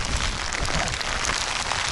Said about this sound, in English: Okay, I can feel some drops. And I can clearly see there's rain coming.